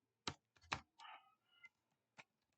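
A short run of crisp, close clicks on a computer keyboard as a Python print statement is typed, a handful of separate keystrokes in otherwise quiet surroundings.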